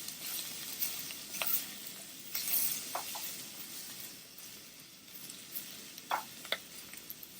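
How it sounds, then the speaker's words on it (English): Potatoes frying in oil in a pan, a soft steady sizzle with scattered sharp pops and crackles spaced irregularly, fairly quiet and heard alone. "And let's fry these potatoes."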